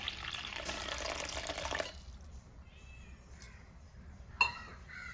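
Water pours steadily for about two seconds, then stops, leaving quiet room noise with a couple of faint, brief sounds afterward.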